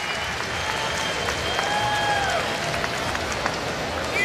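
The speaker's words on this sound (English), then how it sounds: "And you hear the crowd cheering for him." Large X Games Moto X Best Trick crowd cheering for a crashed rider, a broad continuous roar of voices and applause, distant and sustained with a few whistles rising through it.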